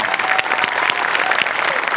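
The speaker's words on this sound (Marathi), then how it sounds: "जोरदार टाळ्या" Loud, sustained applause from an audience after a dance performance on a stage show, dense clapping filling the whole stretch with steady intensity and no talk over it.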